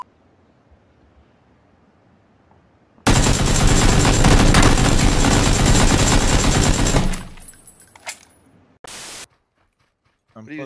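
Sustained machine-gun fire in PUBG, loud and dense for about four seconds, then tapering off, followed by a short separate burst; a few sharp bits of noise trail after.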